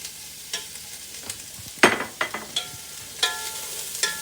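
Green peppers sizzling in a hot pan while a utensil stirs them, giving a string of sharp scraping clacks over a faint, steady frying hiss, close up with no talking.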